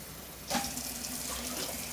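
A kitchen tap is turned on and runs in a steady stream as 2 1/4 cups of water are measured out for cooking quinoa. The gush starts abruptly and keeps flowing close by.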